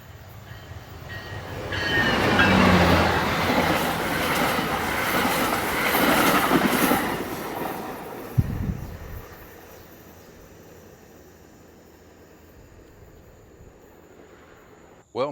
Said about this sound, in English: It was a MARC train coming through, and he was moving pretty good.